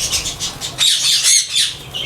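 Pet parrots squawk and chatter loudly up close, a dense chorus of harsh, repeated high calls from ringnecks, sun conures and lovebirds kept as breeding pairs, with no talking.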